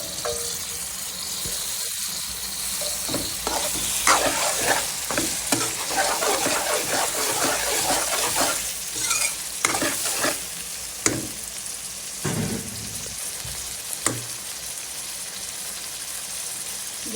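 Tomatoes fry in a pan of oil for fish biryani with salt added, a loud continuous crackling sizzle punctuated by spatula stirs and scrapes against the pan, close up with no talking.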